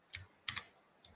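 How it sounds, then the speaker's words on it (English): Computer keyboard typing: three quick, crisp key clicks in an uneven rhythm, close and fairly quiet with near silence between them. "and just start typing"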